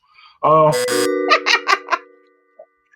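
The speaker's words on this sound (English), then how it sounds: "Oh, I got a double ding dong." Doorbell-style chime sounding twice in a row, a bright double ding-dong ringing clearly over a short burst of talk, followed by a few quick tonal pings that fade out.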